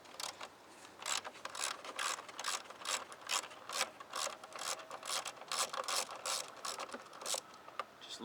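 A ratchet fitted with a 10mm socket and extension loosens transmission bolts on a 2006 Acura TL automatic, giving a close, steady run of rapid clicks in short bursts with no voices.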